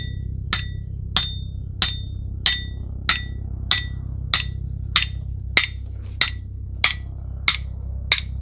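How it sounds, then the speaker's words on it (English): Twelve sharp, ringing metal hammer blows land at an even pace, each with a bright clang, as a stake is driven into the ground while building a greenhouse end wall, over a steady low background hum. "I'm gonna go ahead and drive this down as far as I want, right next to the mark I made initially."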